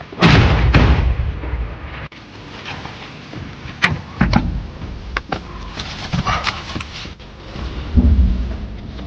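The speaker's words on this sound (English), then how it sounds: "The enemy opens fire chaotically in response" Gunfire in close combat in a forest on the Donetsk front in Ukraine: loud, irregular bursts of shots and heavy thuds, some near and some farther off, scattered across the whole stretch with no voices.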